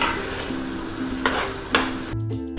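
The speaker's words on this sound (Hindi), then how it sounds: "अब मैं इसमें अपने कटे हुए जो 4 बड़े साइज़ के टमाटर थे ये भी ऐड कर दूंगी और इसको फिर से मैं भूनूंगी।" Chopped tomatoes with spices stir and fry in a pan, a steady sizzle running throughout, with a few clinks of a utensil against the pan and a scraping stir near the end.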